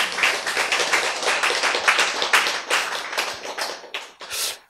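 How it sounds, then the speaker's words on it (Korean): A lecture audience claps for a few seconds, with brisk, uneven, close hand claps forming a lively patter that tapers off toward the end. "박수 한번 쳐야 돼."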